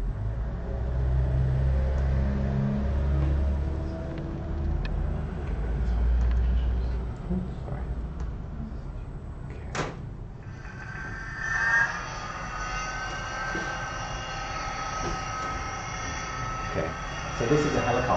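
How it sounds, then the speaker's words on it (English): A fairly substantial, smaller-than-full-size model helicopter flies under reinforcement-learning control: a steady engine rumble and rotor drone are heard, then a brighter whining motor tone. A voice speaks over parts of the sound. "So this is a helicopter."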